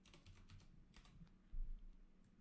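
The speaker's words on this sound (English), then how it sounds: "let me go ahead and type this down in another text editor" Quick typing on a computer keyboard while entering a number into a text editor, a run of soft close key taps with one louder burst of strokes near the end.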